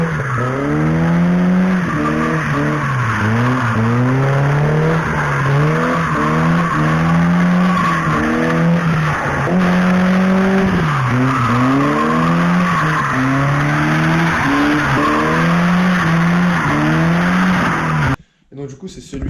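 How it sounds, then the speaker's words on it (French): A car drifts with its tires skidding, giving long squeals that rise and fall in repeated sweeps over a loud engine roar. The sound runs almost without pause and cuts off abruptly near the end. "J'ai des vidéos sur ma chaîne où je fais des drifts avec cette voiture"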